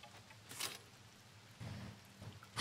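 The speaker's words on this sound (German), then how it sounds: "Es regnet heute." Rain falling in the farming video game Coral Island during a showery day, a soft steady patter with a couple of louder gusty swells, quiet and continuous with no talking.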